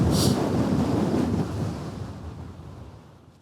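Cold wind buffets the microphone on an open hilltop summit in the Scottish Highlands, a loud broadband rush that gusts at first and slowly eases over a few seconds, with no voices.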